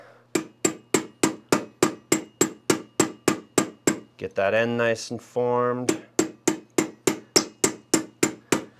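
A hammer strikes a metal ring to form it, some twenty crisp, evenly spaced blows at close range, pausing midway while a person speaks before the steady pounding resumes.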